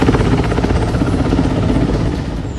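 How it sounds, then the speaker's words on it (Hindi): An MI-17 helicopter during a river rescue operation roars steadily and loudly, its rotor thumping in a fast, even pulse with dense engine rumble throughout. "जो अपने MI-17 हेलीकॉप्टर के साथ पहुंचा और फिर शुरू हुआ"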